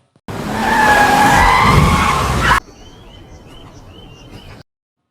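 A car speeds off and skids while manoeuvring, a loud, sustained tyre squeal with engine roar for about two seconds, then cutting to a quieter background with faint bird calls.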